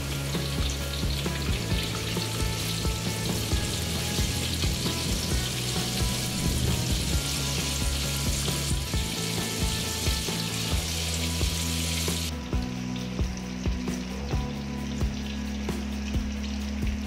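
Dense, continuous sizzle of tofu frying in hot oil, loud and close, crackling steadily without pause and with no voices.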